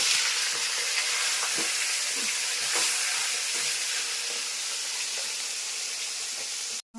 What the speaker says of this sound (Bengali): আমার তেল গরম হয়ে গেছে আমি মাছের মাথাগুলো ভেজে নিচ্ছি